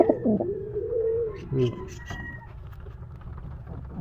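Racing pigeons cooing at a crowded loft in Bocaue, Bulacan, with soft coos and wing flutters close by while people talk over them.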